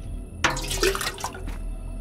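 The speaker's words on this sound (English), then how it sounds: "Water the plants. That's all we have to do." Water splashes and pours while plants are watered in a horror video game, a sudden burst of gushing liquid lasting about a second over a low steady background hum.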